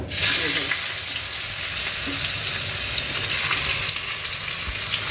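Chopped onions, added after torn bay leaves, sizzle and fry in hot oil in a pan for a Bengali koi fish and cabbage dish; a loud, continuous crackle with occasional stirring scrapes.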